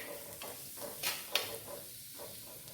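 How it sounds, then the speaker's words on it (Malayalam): Thinly sliced ginger, garlic and curry leaves frying in hot oil in a pan, a faint steady sizzle broken by a few sharp stirring scrapes. "ആവശ്യത്തിന് കറിവേപ്പില ഇട്ട് കൊടുത്ത് നമുക്ക് നല്ലതുപോലെ ഇത് മൂപ്പിച്ചെടുക്കാം"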